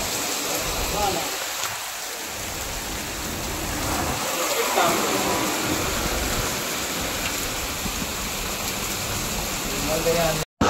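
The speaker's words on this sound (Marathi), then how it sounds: "फायनली पाऊस आम्हाला भेटलेला आहे इकडे खारेपाटणलाच आणि जोरदार आलाय." Heavy rain pours down at Kharepatan in the Konkan, a dense, steady hiss close by that continues without a break until it cuts off abruptly at the end.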